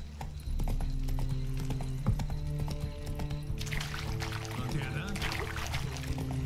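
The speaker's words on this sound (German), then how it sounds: "Komm hier, mein Pferdchen." Steady clip-clop of horse hooves at a walking pace in the video game Witcher 3: Wild Hunt, close and continuous, with a low ambient hum and a brief whinny-like sound partway through.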